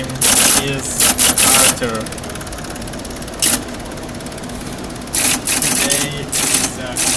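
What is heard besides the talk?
typing hello world on a computer keyboard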